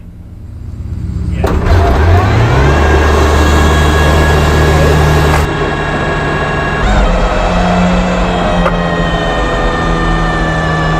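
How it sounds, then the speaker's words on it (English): An Aston Martin engine at an F1 grand prix revs up loud and close, holding a steady roar with shifting pitch, then settling into a slightly lower sustained drone with brief changes in tone. "Up the engine a little bit before we go"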